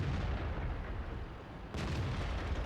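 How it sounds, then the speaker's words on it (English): A tank cannon shot in the World of Tanks video game, aimed at a tracked T28 HTC: one sudden loud blast partway through, cutting into a steady low rumble of battle and engine noise. "Put a shot into the T28 HTC, who's tracked now, possibly screwed."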